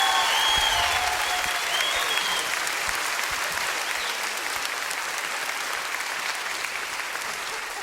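An audience claps for a singer in a steady burst of applause that holds for several seconds and slowly fades, a broad crowd sound with no distinct voices.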